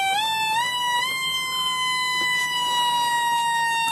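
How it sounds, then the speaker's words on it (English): An electronic siren circuit built from an Elenco 50-in-1 kit wails like an American fire truck, with a steady tone that rises in short steps and then holds, loud and alone. "Oh, it sounds so like an American fire truck."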